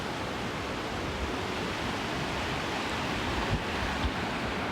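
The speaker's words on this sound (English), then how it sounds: "The water flows right down into the Sangla River." Mountain stream water pours down toward the Sangla River in India's Sangla Valley, a constant broadband rushing close to the microphone, steady throughout with no voices.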